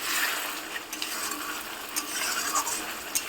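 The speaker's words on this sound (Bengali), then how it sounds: "এখন মশলাটা ভালো করে কষে নেব।" Spice masala with salt is stir-fried in a pan for a chicken and potato curry, a steady sizzle broken by scraping stirs and a few soft clinks of a utensil against the metal, with no talking.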